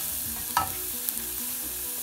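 Ginger sautéing in a pan for inji puli, Onam style, with a continuous soft sizzle broken by one scraping stir of the spoon, close and without talk.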